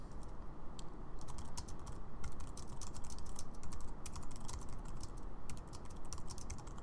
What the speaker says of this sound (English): If I was to type something